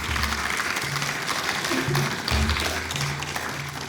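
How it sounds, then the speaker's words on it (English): Applause from an orchestra concert audience at an observatory, a steady crowd clapping that runs through the whole stretch at close range, with some low hum and faint voices underneath. "Let's give a round of applause."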